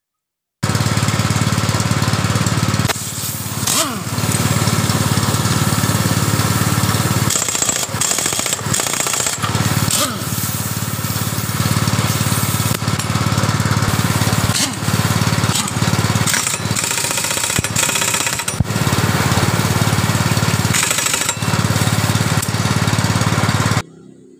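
A Yamaha NMAX 155 scooter engine is started and left running, giving a loud, steady mechanical drone with a few brief dips and surges throughout, close to the listener and with no talking.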